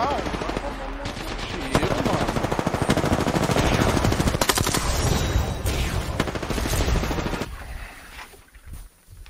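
Rapid automatic gunfire and bursts from a shooter video game, including an extended P99 magazine and shotgun blasts, dense and continuous for most of the stretch before fading near the end.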